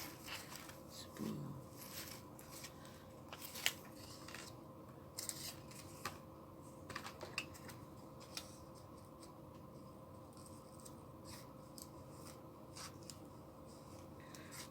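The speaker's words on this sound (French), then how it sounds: "Je vais découper cette petite fleur là, grossièrement." Scissors roughly cutting a small paper flower for an embellishment journal: faint, close snips and paper rustles at irregular intervals over a low steady hum, with no talking.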